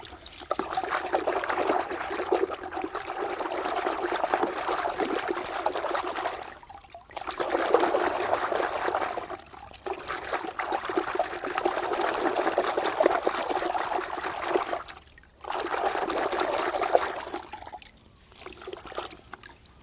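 Running water rinsing a water heater part, a steady close splashing rush of flowing water that stops briefly a few times before resuming.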